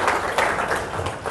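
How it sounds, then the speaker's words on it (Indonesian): A crowd applauding at an indoor digital class training event, a short burst of dense, lively clapping at close range. "Tepuk tangan untuk Konakami Digital Indonesia dan Degree Crypto Token"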